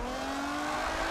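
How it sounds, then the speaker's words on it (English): A mildly tuned Nissan 350Z driven with a G920 wheel and handbrake in a Forza Horizon drift session, its engine holding a steady sustained drone with tire noise, fairly quiet throughout. "This is just G920 wheel, handbrake, and a mildly tuned 350Z."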